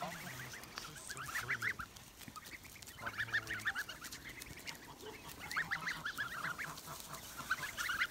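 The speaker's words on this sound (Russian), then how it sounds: "Пасутся наши гусята." Geese and goslings honk and cackle steadily while grazing in a countryside village yard, calls coming in clustered bursts over a soft outdoor background, with no talking.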